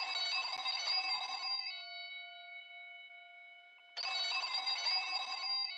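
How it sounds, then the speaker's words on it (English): An old-fashioned telephone bell from Welcome Home rings in two clear metallic bursts separated by a lingering tonal decay, quiet and alone. "It's now replaced with the sound of a ringing telephone."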